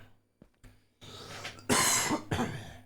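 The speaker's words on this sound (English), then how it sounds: "Still a little bit of cough." A few harsh coughs close by, two loud bursts and a smaller one, after some quieter breathy throat sounds.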